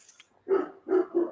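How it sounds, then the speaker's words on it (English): A one-year-old dog gives three deep barks close by, evenly spaced and loud, with no talk over them. "I have no idea what he's barking at"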